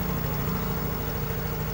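A Yamaha Mio M3 scooter with a battery that won't charge idles right after being started, a steady, close, low rhythmic engine putter that stays constant throughout.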